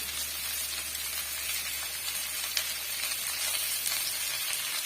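Chutney ingredients with a lemon-sized lump of tamarind sautéing in a pan for a roadside-style chilli bajji chutney, giving a continuous, even sizzle with faint scraping clicks of stirring.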